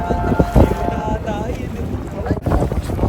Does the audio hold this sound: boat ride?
yes